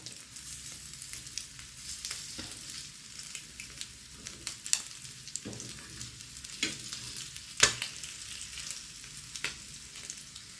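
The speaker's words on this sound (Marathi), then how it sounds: "हे मी तेलात फ्राय करून घेतलेलं आहे" Eggs shallow frying in oil give a steady, soft sizzle and crackle, with occasional sharper pops and spatters over the continuous hiss, close and fairly quiet.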